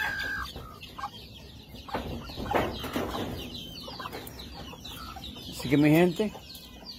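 Young chicks peep and cheep nearby in scattered high calls, with one louder squawk near the end, while someone speaks over them.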